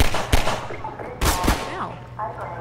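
Gunfire from a weapon in Half-Life 2, two loud, close blasts about a second apart with a rattling tail, mixed with game noise and a little voice.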